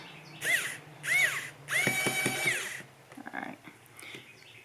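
A PKEY mini cordless electronic screwdriver driving a tiny screw, three short whirring motor bursts rising in pitch, the last held longest, followed by faint clicks and handling, all close and without speech.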